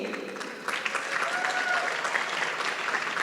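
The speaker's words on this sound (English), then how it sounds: "let's give a big round of applause to Nimmi" Audience applause at an Arangettam dance debut performance, a swell of many hands clapping that rises after a moment and stays full and steady.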